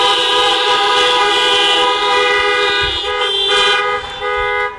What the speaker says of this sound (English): let's do so now by honking your horns for this great woman of